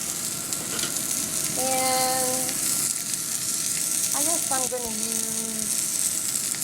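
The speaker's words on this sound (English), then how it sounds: "we're going to put all this in, these veggies. And you hear it sizzle." Broccoli and other vegetables sizzle and fry in a hot pan, a continuous crackling hiss that lasts throughout while a person talks over it near the start and again later.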